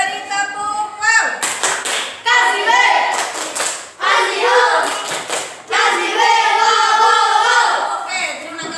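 A classroom group gives a rhythmic 'tepuk wow' clapping cheer, sharp bursts of hand claps in patterned groups interleaved with voices chanting and talking nearby.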